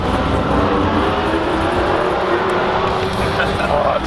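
A Chevrolet Corvette C6 Z06 rolls along the road with a steady, loud engine and road roar close by, people talking over it throughout.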